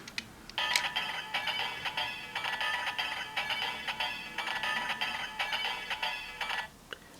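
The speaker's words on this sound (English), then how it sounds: "The first being a ringtone" A Kamen Rider Zero-One DX Hiden RisePhone toy plays its electronic ringtone, a repeating warbling pattern of bright, tinny tones, continuous for several seconds before stopping, thin and slightly distant.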